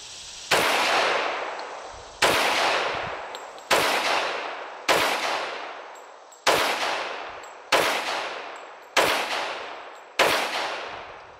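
A Ruger 1911 pistol fires at an outdoor range: eight sharp, loud shots spaced roughly one and a half seconds apart, each followed by a decaying echo.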